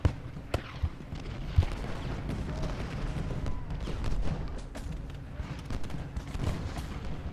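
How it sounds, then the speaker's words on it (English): Rifle fire in the Civil War strategy game Ultimate General: Gettysburg, a few distant sharp cracks and thumps over a continuous low rumble of battle, scattered irregularly and fairly faint. "some of the artillerists are firing with their rifles"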